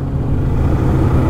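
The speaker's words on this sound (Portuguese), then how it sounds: "eu tô acelerando tudo e a moto tá acelerando pouco" A drag-racing motorcycle at the Velopark strip revs under throttle, a loud, close, low engine drone held steady throughout the short burst.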